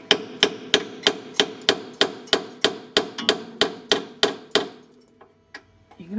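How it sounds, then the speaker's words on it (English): A steady run of about fourteen hard metallic hammer blows on a chisel against the rusty chassis of a Reliant Scimitar, ringing close and loud with the chassis reverberating, then a few scattered lighter taps as it stops. "I'll see if I can hammer and chisel that out"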